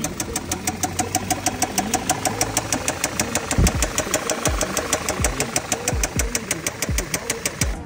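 An Audi car engine idling after warming up, a steady close mechanical drone with a fast regular ticking knock running throughout, with a few low thumps partway through.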